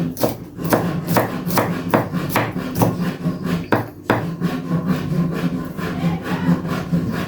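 Garlic is chopped finely with a knife on a wooden board, a close, loud run of quick rhythmic knocks with brief pauses, no voices.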